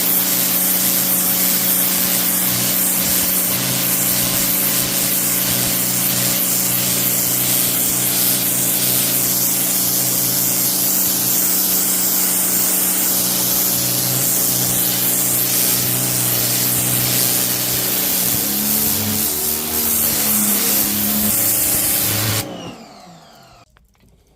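A Parkside PHD170D2 pressure washer sprays in a loud, continuous hissing roar with an underlying motor drone for about twenty-two seconds, then abruptly shuts off.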